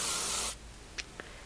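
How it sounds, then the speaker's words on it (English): A single short burst of hairspray from an aerosol can hisses onto a curl for about half a second, then cuts off, followed by two faint clicks in a quiet room. "Basically, as I'm spraying it in,"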